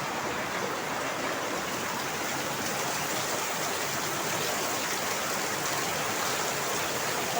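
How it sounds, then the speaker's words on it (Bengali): Heavy rain pours down steadily and evenly, a dense continuous hiss close by with no pauses and no voices. "দেখো কিরকম সুন্দর বৃষ্টি হচ্ছে"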